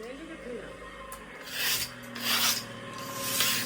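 A hand saw rasps through wood during village work preparing a community langar, with several rough back-and-forth strokes growing louder in the second half over a faint low background hum.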